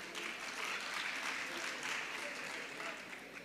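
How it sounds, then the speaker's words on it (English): A hall full of people applauds at a university certificate ceremony, broad continuous clapping at even strength that tapers slightly at the end, with no voices on top. "Give him a huge round of applause."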